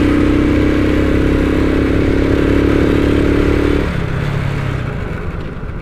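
A Spark 125 motorcycle engine runs close and loud in a steady drone, then drops to a lower, rougher idle as it settles.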